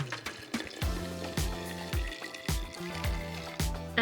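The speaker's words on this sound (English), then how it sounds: "And then we're going to add water." Water poured from a container into a plastic water bottle holding ice and instant black coffee, a close pouring and splashing sound with irregular clinks of ice against the bottle.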